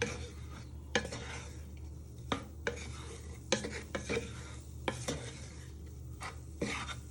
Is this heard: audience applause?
no